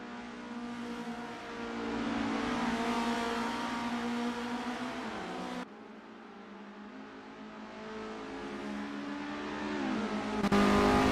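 Isuzu Bellett GTR race cars in the racing game Assetto Corsa at Autodrom Most, a steady loud engine drone that dips briefly midway and then swells again, rising harder near the end.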